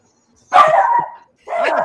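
A man imitates a dog with his voice, giving two loud, close bark-like bursts separated by a short pause.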